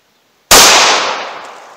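One loud, close 9mm pistol shot from a 4-inch barrel, firing Underwood 105 grain Maximum Expansion ammunition, hits with a sudden crack and then a long ringing decay.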